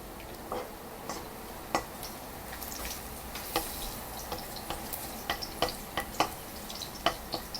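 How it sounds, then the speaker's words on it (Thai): Garlic stir-frying in a pan in a home kitchen, a quiet sizzle under repeated scraping and tapping of a utensil, irregular clicks and stirs spaced through the stretch, no voices. "ผัดกระเทียม หอมหัวใหญ่ก้อนได้จ้ะ"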